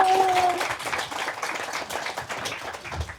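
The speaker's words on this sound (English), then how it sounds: "please give a round of applause to our guest." Audience applause at a book launch in a queer bookstore, a steady wash of many hands clapping close by that fills the whole stretch with no voices on top.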